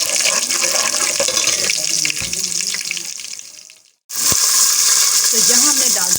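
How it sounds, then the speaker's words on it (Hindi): Two glasses of water pour in a steady splashing stream into a hot pot of rice, masala and kadhi pakora ingredients, break off briefly, then resume with a sizzling hiss; a voice speaks in Hindi over it. "तो यहाँ हमने डाल दिया पानी"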